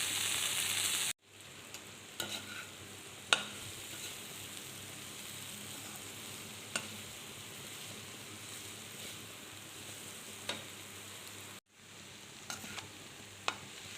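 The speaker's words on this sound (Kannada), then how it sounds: "ಉಪ್ಪು ಹಾಕ್ತೀನಿ, ಫ್ರೈ ಮಾಡ್ತೀನಿ" Okra palya with garam masala and salt fries in a pan, giving a steady close sizzle with occasional light stirring clicks and two brief breaks in the sound.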